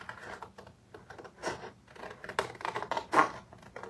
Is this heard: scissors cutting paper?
yes